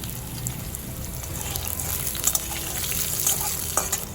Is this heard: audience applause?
no